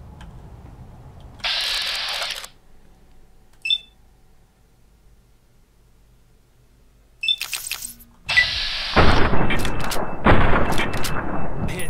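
Gunfire and reloading in the video game Fallout: New Vegas: a mechanical reload rattle and clicks, then a burst of loud shots and bright clattering effects toward the end.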